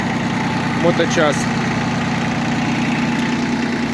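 Close by, a Yanmar FB15D Japanese tractor with 771 engine hours idles with a constant low diesel thrum, while someone speaks briefly over it near the start.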